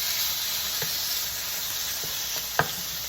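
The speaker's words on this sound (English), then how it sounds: "I have 2 tablespoons of vegetable oil in this pan. So we're just gonna cook up this turkey." Fresh turkey cooking in two tablespoons of vegetable oil in a pan gives a steady, even sizzle and hiss that runs throughout, with a few faint clicks and one sharper tap near the end.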